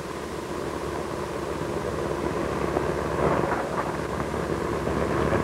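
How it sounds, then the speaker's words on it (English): An autogyro flies overhead in a 1935 film serial, a steady broadband engine drone with rushing rumble that swells slightly louder midway and holds to the end, with no voices. "It's an auto gyro and it's headed straight for the warehouse."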